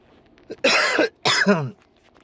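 Two harsh, loud coughs close to the microphone, one after another with a short pause between.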